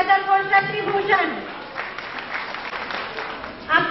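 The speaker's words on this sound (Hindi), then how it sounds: "please put your hands together for Shakti Bhushan" An audience at an Independence Day program in Muzaffarpur, Bihar breaks into a burst of applause for a speaker, with a voice speaking just before and as the clapping fades.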